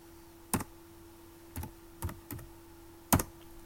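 Keystrokes on a computer keyboard while logging in to a freshly installed FreeBSD system with the MATE desktop: five or six separate clicks, irregularly spaced, close and fairly crisp over a steady faint electrical hum.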